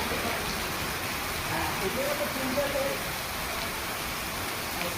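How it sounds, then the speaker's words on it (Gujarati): Steady rain falls in a village of Bhavnagar district, a dense, even hiss of drops on surfaces that continues without a break, close and moderately loud. "ભાવનગર જિલ્લાના ગ્રામ્ય પંથકમાં પણ ફરી વરસાદની શરૂઆત થઈ."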